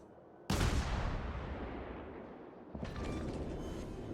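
A loud naval gun salvo from World of Warships fires with a heavy boom and long rumbling decay, followed after a couple of seconds by a second impact burst layered with crackling debris.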